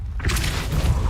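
Depulso force spell cast in Hogwarts Legacy, a booming burst that swells in after a brief quiet and sustains as a heavy low rumble with a bright magical shimmer on top.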